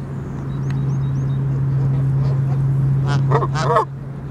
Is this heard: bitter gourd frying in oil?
no